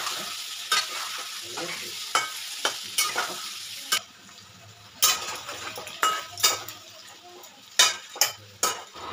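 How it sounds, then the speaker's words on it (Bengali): Potatoes frying with salt and turmeric in a pan for Bengali egg curry: a steady sizzle broken by repeated sharp scrapes and clinks of a spatula stirring against the metal, close and alone. "এরপর আলুটাকে লালচে করে ভেজে নিতে হবে।"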